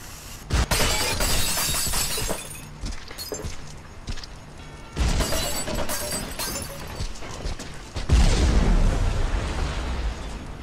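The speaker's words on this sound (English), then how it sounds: "I expected an explosion, but not that big." A huge explosion in the video game Viscera Cleanup Detail, heard as a series of loud shattering blasts and booming bursts in separate waves, each tailing off into crackling debris with no voices over it.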